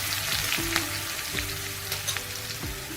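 Finely chopped onion frying in a pan with cumin, a dense steady sizzle with a few soft stirring knocks, close and even in level, no voices.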